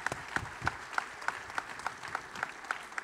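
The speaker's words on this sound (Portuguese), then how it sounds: "Uma salva de palmas para o meu pastor" An audience at a men's church conference claps for the pastor, a sparse, fairly distant round of applause with distinct, evenly spaced claps about three per second.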